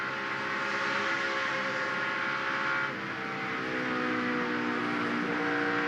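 A NASCAR truck races at Atlanta, its engine a loud, steady, roaring drone with a brief dip in the middle as the throttle lifts, followed by a rising pitch.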